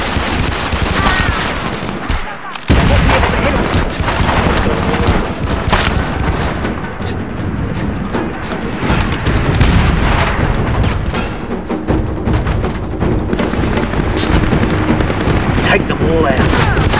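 A heavy battle in the PS3 shooter SOCOM 4 U.S. Navy SEALs: loud, near-continuous rifle and machine-gun fire with booming explosions mixed in, and one brief lull partway through.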